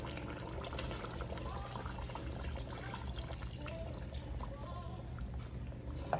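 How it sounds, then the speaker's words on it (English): Fresh water poured into a big pot of oxtail for red beans and rice, a steady splashing trickle that runs unbroken at moderate level for about six seconds, with no talk over it. "we're gonna add this water back in there."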